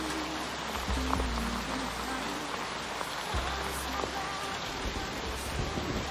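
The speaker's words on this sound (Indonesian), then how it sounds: "Tapi Gus, ini hujan deras." Heavy rain pours down in a steady, dense, even hiss that fills the whole stretch without pause, close and loud, with no voices over it.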